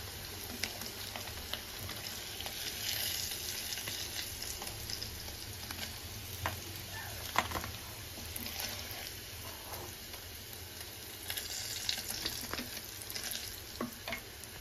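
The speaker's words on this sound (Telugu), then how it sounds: "చూసారు కదా పన్నీర్ అయితే ఇలా ఫ్రై అయిపోయింది" Paneer fries in hot oil in a pan on a stove, a steady close sizzle and crackle with scattered pops and occasional stirring scrapes throughout.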